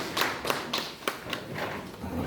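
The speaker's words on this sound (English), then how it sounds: "May we give him a round of applause, ladies and gentlemen." Scattered applause from a small audience at an IPSAS training workshop for a district council, a handful of uneven, separate claps heard at moderate distance over roughly two seconds.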